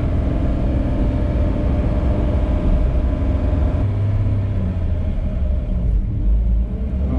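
A 50th anniversary Copo Camaro, one of 69 built, rumbles with a loud, deep continuous engine drone that shifts pitch slightly partway through, with no talking over it.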